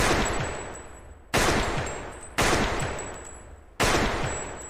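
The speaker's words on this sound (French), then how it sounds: "les 4 coups successifs, c'était un signal de Jean" Four loud gunshots ring out one after another in the anime Attack on Titan, evenly spaced about a second apart, each a sharp blast with a long echoing decay.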